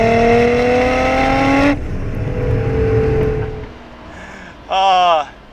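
A modified 1995 Nissan Skyline R33 GT-R's straight-six pulls hard and loud with a rising howl, breaks off at a shift, then blips sharply once more, heard from inside the car.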